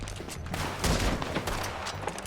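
Bursts of gunfire in Red Dead Redemption 2 during a shootout with men on a ridge: loud, rapid overlapping shots, heaviest in the middle, with no talk.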